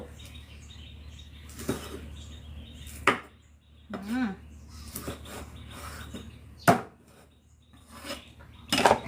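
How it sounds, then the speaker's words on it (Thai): A knife chops through a large eel on a cutting board in a home kitchen. Several sharp, scattered chops and rasping scrapes come with pauses between them, over a faint background and soft, distant talk. "เดี๋ยวเราตามมาเริ่มหั่นปลาไหลกันบ้างแล้ว"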